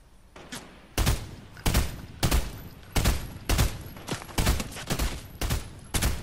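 Assault rifle fire from Fortnite Battle Royale rings out in about nine sharp, loud bursts, spaced roughly every half second to second, each cracking close and decaying quickly.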